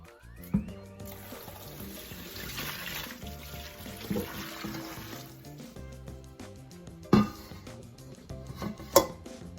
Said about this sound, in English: I'm gonna run cold water on them to stop the process of cooking